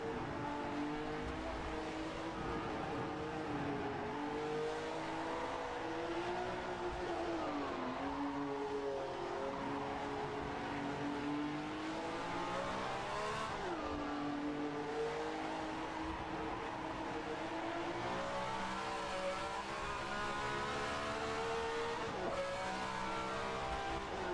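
A 1967 Ferrari 312F1 race car in a racing game, its engine whining steadily at high revs with the pitch rising and dipping through gear changes, fairly quiet but continuous, with no talk over it.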